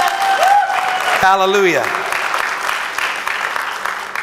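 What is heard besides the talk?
congregation applause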